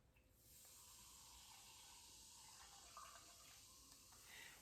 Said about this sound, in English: 1/3 of the cup of mineral water going in.